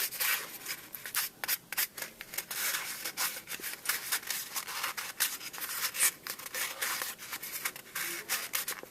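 Fingers rubbing and burnishing paper down firmly, giving close, quiet, rapid scratchy swishes in uneven bursts, with no talking.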